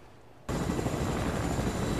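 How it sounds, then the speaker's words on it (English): Helicopter in Fortnite starts up abruptly after a brief quiet moment, then holds a loud, dense, steady rotor-and-engine roar. "I'm gonna grab the helicopter and head over there"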